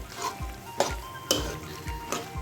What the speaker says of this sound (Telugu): మాడకుండా పాస్తా అంతా కలిసిపోయే వరకు ఇట్లా కలిపేసుకుందామండి